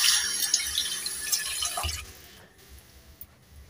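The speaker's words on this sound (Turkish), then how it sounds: "elimi yıkayayım" Hands are washed under a running kitchen tap for about two seconds, a splashing stream that then stops, leaving a few faint drips.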